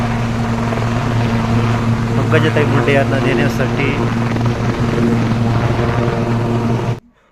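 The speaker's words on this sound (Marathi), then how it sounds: "किनगाव नगरीमध्ये हेलिकॉप्टरने रवाना झाले आहेत" A helicopter taking off holds a loud, steady rotor drone with a deep pulsing hum, heard under a man's speech. The sound cuts off abruptly near the end.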